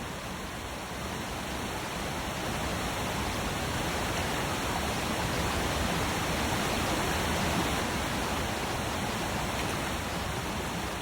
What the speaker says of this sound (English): The turbulent water can be dangerous, even for them.